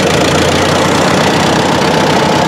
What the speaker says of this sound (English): Maybe rev the tractor up just a little bit.